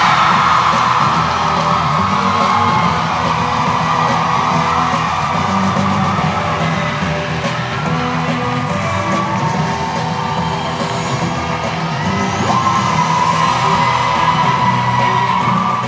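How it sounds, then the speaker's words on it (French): A large Comic Con Paris 2013 audience cheers and applauds for Mark Gatiss, with loud, continuous clapping, whoops and yells that fill the hall throughout. "On vous demande maintenant de faire un tonnerre d'applaudissements pour monsieur Marc Gatiss."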